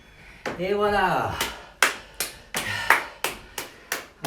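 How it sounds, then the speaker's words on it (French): A fitness class finishing an oblique and transverse abs workout breaks into applause, short bursts of clapping in an uneven rhythm, with an instructor's voice talking at the start. "Applaudissez-vous parce que vous avez été formidable, merveilleux"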